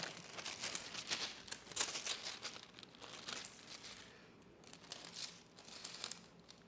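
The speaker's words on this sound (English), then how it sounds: "Let's grab a little piece here of parchment paper" A piece of parchment paper being handled for baking peanut butter chocolate chip oatmeal cookies, giving steady close crinkling and rustling with soft tearing textures throughout.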